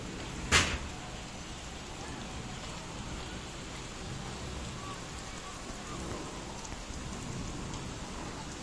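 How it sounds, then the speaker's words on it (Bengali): City rain falls in a steady, faint patter and hiss, with one sharp knock early on and no talk. "এখানে যে বৃষ্টি হচ্ছে আপনারা কি বুঝতে পারতেছেন?"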